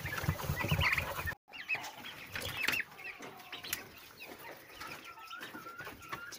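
Chickens cluck and chatter in a farm enclosure, with bird calls rising over scattered scratching and rustling; the sound is busy and fairly close, broken by a brief silence near the start.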